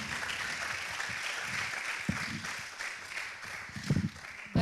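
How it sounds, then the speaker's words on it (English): An audience at a lecture session gives another round of applause, a soft, distant, continuous patter of many hands with a few louder thumps near the end. "Please, another round of applause."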